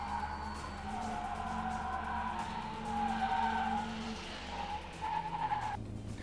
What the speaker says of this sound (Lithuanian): Atvykus pastebėtas BMW markės automobilis, liaudiškai dar vadinamas kompaktu.